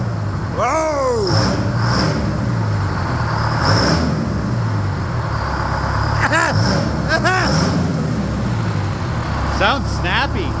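A Detroit 8V71 diesel engine in a 1969 Hayes 6x6 truck revving after 14 years parked, a loud, steady close-up drone that rises and falls, with people talking over it.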